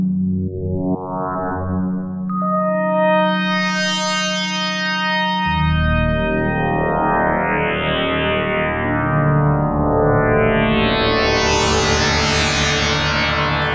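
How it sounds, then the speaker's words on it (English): Nord Wave 2 synthesizer playing lush FM pad chords with reverb, layered sustained tones swelling and gliding upward in pitch, rich and bright with no voices. "And those are beautiful FM pads"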